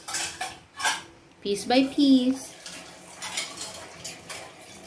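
Forks and other cutlery clink and rattle in a kitchen sink under running tap water while a mother and young daughter talk over the washing.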